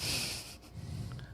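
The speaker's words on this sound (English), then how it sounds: "I'm liking this heavy breathing through the nose" Heavy, snorting breaths drawn and pushed through a person's nose, close and fairly loud, with a brief pause midway before the rough nasal breathing resumes.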